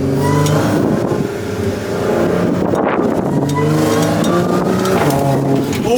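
A supercharged Audi A6 engine accelerates hard, a loud, raspy rising roar heard from inside the car, with the pitch climbing and dropping between gears over the full span.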